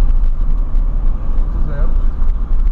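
A Fiat Uno Way with a 1.0 engine idles steadily as a low, continuous rumble heard close by, while people talk over it throughout.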